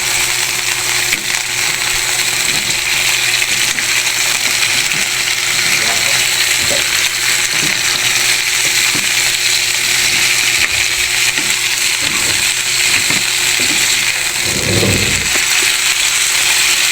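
Garlic, onion, tomato and mixed vegetables with malunggay sautéing in a pan, a loud, steady hiss of frying that persists throughout, with a few faint clinks and a brief low thump near the end.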